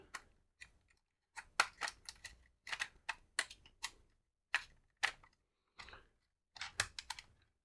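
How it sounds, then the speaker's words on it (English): Small screws are driven into the plastic case of a Jumper T-Pro radio transmitter, giving sharp close clicks and ratcheting ticks in short irregular bursts separated by brief silences. "let's get those screws in"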